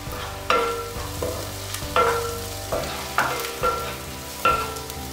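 Onions with turmeric and other spice powders being stirred in a pan for a Kerala fish biryani, with a steady low sizzle broken by repeated spoon-scrapes and clinks against the metal at regular intervals, close and fairly loud, no talking.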